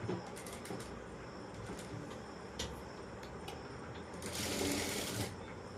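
Sewing machine stitching a strip onto a kurti, rattling in quick bursts of close mechanical stitching with brief pauses, quiet overall and louder near the end, with no talk.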